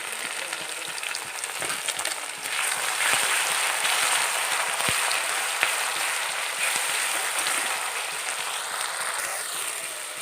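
Ginger, garlic, chilli and ground cumin fry in mustard oil with onion and bay leaf for a local chicken curry, giving a steady close sizzle and crackle that runs for about ten seconds with no voices.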